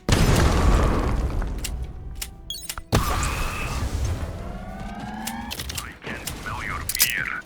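Grenade blast in the shooter video game Pax Autocratica: a loud boom at the start and another around three seconds, amid gunfire bursts, mechanical game effects and a voice talking over it.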